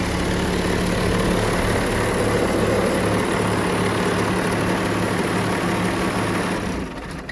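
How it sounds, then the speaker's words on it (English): An old tractor engine idles steadily with a deep, low rumble, close and loud, running on without a break before easing slightly at the very end. "Started up. It's the best sounding engine they made."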